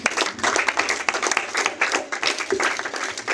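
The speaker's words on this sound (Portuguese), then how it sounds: "eu vou pedir uma salva de palmas" A gathered congregation at a religious talk gives a round of clapping, uneven and choppy with distinct individual claps pulsing through, fairly close and moderately loud.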